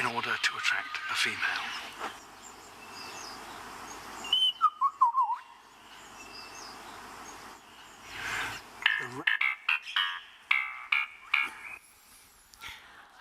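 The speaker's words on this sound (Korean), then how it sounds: "어떻게 이 새가 이런 소리를 낼 수 있을까?" A male bird performs an elaborate courtship song of varied whistles, sharp clicks and sliding warbled notes in separate bursts, fairly faint with quiet gaps.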